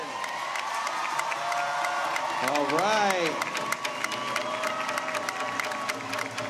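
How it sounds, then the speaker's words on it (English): Crowd claps, cheers and whoops at a community gathering in a theater, loud sustained applause with scattered shouts and a rising whistle-like cry in the middle, while a voice speaks briefly over it. "give everybody a round of applause for this awesome day"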